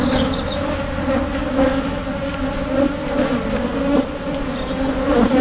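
A dense, steady drone of many honeybees buzzing close by a hive, a continuous humming swarm with occasional nearer wingbeats passing the microphone.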